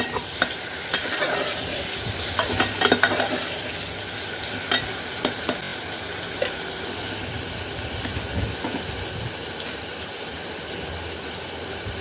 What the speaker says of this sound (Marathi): तर आता आपण कांदा परतून घेऊया।